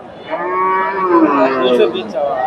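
A large Jersey dairy cow moos in a long, loud, drawn-out call at a busy rural cattle market in northern Bangladesh, with the crowd's murmur underneath.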